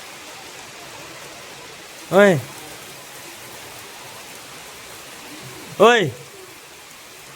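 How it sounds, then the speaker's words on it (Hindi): Steady rain falls outside, a soft continuous hiss throughout, broken twice by a short vocal call. "वाह कितनी अच्छी बारिश हो रही ना बाहर।"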